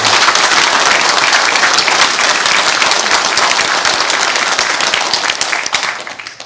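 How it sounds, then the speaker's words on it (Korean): Sustained audience applause fills a political party delegates' convention hall in Gwangju's Nam district, dense and loud clapping from a large crowd that gradually thins toward the end. "박수 한번 드리겠습니다"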